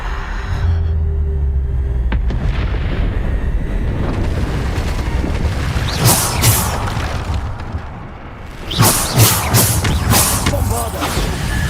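Bombarda spell explosions in Hogwarts Legacy boom over a continuous battle din, with sharp bright bursts around the middle and again later, and voices are heard in the mix.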